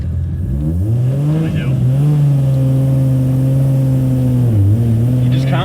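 A 550 kW Nissan R34 GT-R with a 2.8-litre engine and a big HKS turbo revs loudly and close by, climbing quickly and then holding a high, steady drone that dips briefly near the end.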